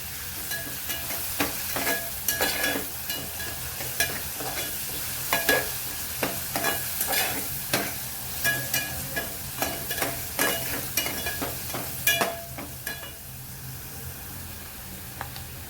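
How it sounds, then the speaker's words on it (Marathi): Ginger, garlic and chili paste sautés in a hot pan, a steady sizzle broken by repeated sharp scrapes of a spoon stirring, close and loud with no talking. "आलं लसूण पेस्ट टाकणार आहे आलं लसूण आणि मिरचीची पेस्ट आहे पेस्ट पण छान परतून घेऊया"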